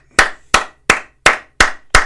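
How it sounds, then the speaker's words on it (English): Six sharp hand claps in a steady, evenly spaced rhythm, close and loud with nothing else around them. "I gotta clap for that shit."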